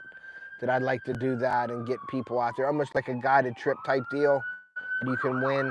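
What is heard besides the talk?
ambulance siren passing by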